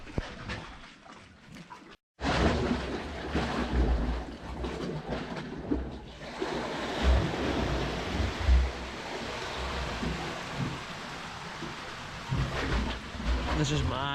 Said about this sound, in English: often the sound of the water churning and splashing, it's just crazy